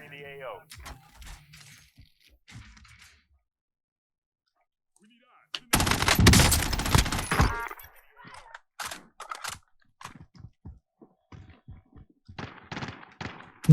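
Rapid bursts of automatic gunfire from the Warzone video game erupt loudly in the middle, followed by scattered shots and clicks while players chat.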